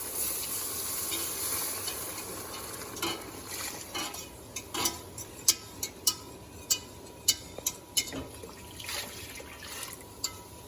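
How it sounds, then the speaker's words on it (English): Whole milk poured into a warm roux in a pan for mac and cheese, a steady liquid wash with a run of sharp utensil clinks and taps against the pan in the second half. "So we're pouring in the whole milk."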